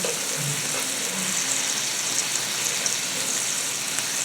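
Teriyaki glazed salmon sizzling in a pan on reduced heat, a steady dense crackle like light rain that holds evenly throughout, with no voices.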